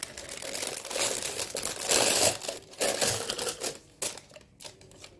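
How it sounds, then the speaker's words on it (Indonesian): A triangular plastic piping bag being handled in a kitchen while making Thai cendol: dense, continuous crinkling and rustling close by, swelling and fading in bursts with no talk. "Siapkan plastik segitiga"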